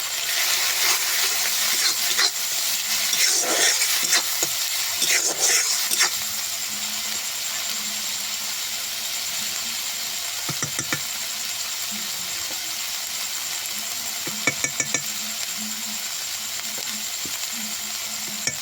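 Ground cumin, turmeric and chilli powder with fish curry masala stir-fry in hot oil in a pan for a silver carp kalia, a steady close sizzle with occasional spatula scrapes and taps against the pan.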